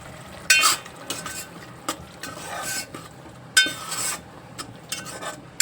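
Onion-tomato paste frying in oil in a pan, with the oil separating at the edges, for a whole masoor pulao, gives a low steady sizzle cut by several sharp bursts of stirring and spoon scrapes, close by and with no talk.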